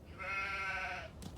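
A single sheep bleats once in a video game, a clear, fairly loud wavering call lasting about a second, heard alone with no talk over it.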